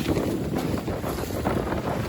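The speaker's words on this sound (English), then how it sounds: "The waves have picked up exactly as I suspected." Steady rushing wind and sea noise surround a small trailer sailer sailing alone upwind at night off the English coast, a constant close roar of wind and waves.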